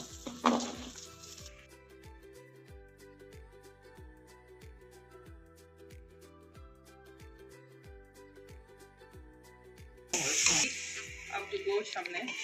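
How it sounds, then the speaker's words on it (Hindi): Onions hit a hot pan for palak gosht, giving bursts of sizzling at the start and again near the end, with steady background music throughout. "अब हम इसमें प्याज डालेंगे।"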